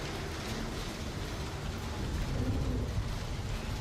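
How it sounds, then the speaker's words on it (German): Steady rain patters outside in the game Star Citizen, a dense even hiss with a low rumbling undertone that swells slightly midway, no voices. "Als ob du den Regen prasseln hörst jetzt richtig draußen."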